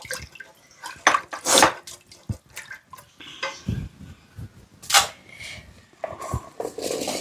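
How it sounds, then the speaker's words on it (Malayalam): Water is poured into a clay cooking pot set over a low flame, giving intermittent splashes and pouring gurgles with clinks of the pot and utensils, close and fairly loud, with no talking. "നമ്മൾ അതിലേക്ക് ആവശ്യമുള്ള വെള്ളം ഒഴിച്ച് കൊടുക്കാം"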